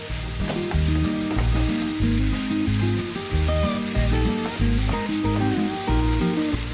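Meat filling sautéed with garlic in a pot for an eggplant dish, loud close sizzling and frying with rhythmic bursts of stirring throughout, no voices.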